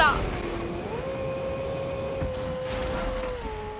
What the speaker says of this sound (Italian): la McLaren che vola